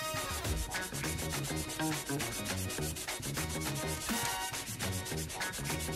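A knife blade is polished by hand with abrasive across the grain, giving steady, rhythmic rubbing strokes close up, with tonal sound in the background.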